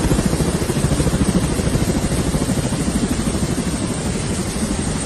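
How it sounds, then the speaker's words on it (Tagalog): Several helicopters flying over Maguindanao make a loud, steady, rhythmic rotor thudding that continues throughout and fills the scene without any speech. "Hindi lang isang helicopter yan, ang dami yan"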